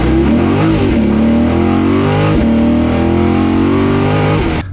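A 2020 Chevrolet Corvette C8 mid-engine sports car engine revs hard and steadily for several seconds, its pitch climbing and dipping through gear changes, loud and close.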